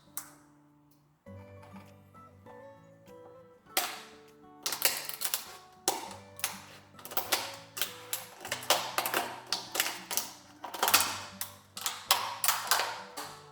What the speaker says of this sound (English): So we'll flatten it. And we'll cut across.